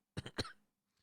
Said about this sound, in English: Why do you cough every time you say Communal Brewing?